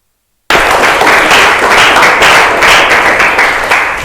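A classroom group bursts into loud, dense applause after student presentations, many hands clapping together in a steady roar that starts abruptly and then slowly fades.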